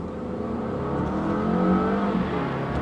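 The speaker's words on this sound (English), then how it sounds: "I'm going to see if I can spool up the engine, give the turbo and the supercharger a little bit of the beans" A 2017 Volvo XC60 T6 with a turbocharged and supercharged engine accelerates hard, its steady, loud, rising engine drone and whir filling the cabin throughout, with no talking.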